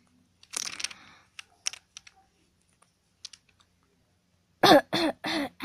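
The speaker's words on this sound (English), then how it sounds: "I'm coughing so badly" A person coughing hard, a few harsh bursts at the start and a cluster of loud close coughs near the end, with scattered clicks and near silence in between.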